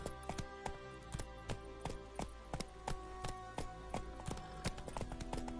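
Horse hooves clip-clopping in a PS4 video game, a quick regular run of sharp hoof strikes that stays close and clear, with little else in the mix.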